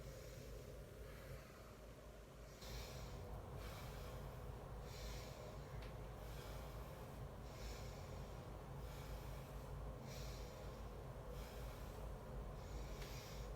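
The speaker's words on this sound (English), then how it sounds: "in and out as you breathe, connecting that breath with your movement. Connecting nostril breathing." Steady, rhythmic nostril breathing during a yoga flow, soft repeated inhale-exhale bursts every second or so over a constant low background hum, close and fairly quiet, with no talking.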